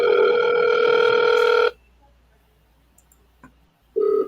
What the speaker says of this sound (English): I'm gonna call you in the dialer, Fidel.